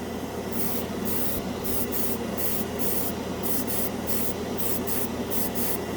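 An airbrush sprays cheap craft-store acrylic paint onto a scale model, a steady close hissing spray with short rhythmic gaps as the trigger is pulsed, over a constant low compressor hum.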